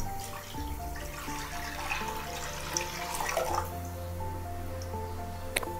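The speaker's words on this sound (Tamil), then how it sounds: "ஸ்டவ் பற்ற வச்சுட்டு 1 லிட்டர் பால் இதில் ஊற்றிக்கிடலாங்க." Liquid pours steadily as one litre of milk runs into a pan on a lit stove, a continuous trickling, splashing stream heard close and alone under a low steady hum, with no talking.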